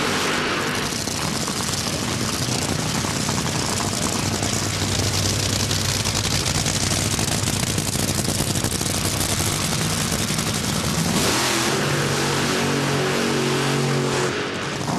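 Two 8,000-horsepower top fuel dragsters at the 2004 NHRA Route 66 Nationals fire up and rev, a thunderous, crackling roar that fills the air for seconds before settling into a throbbing, lumpy idle.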